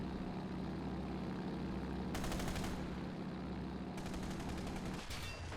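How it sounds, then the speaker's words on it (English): A warplane's machine gun in Men of War: Assault Squad 2 fires in two rapid sustained bursts and a short third one over a steady droning engine, all quiet and distant. "Oh, I have a machine gun. I have a rear machine gun."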